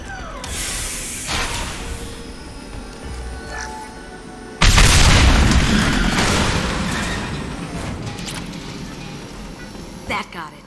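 Fuel tanks blow up in Mass Effect 2 with a sudden heavy blast that rolls into a long, loud roar and slowly decays, following a few seconds of game noise and gunfire.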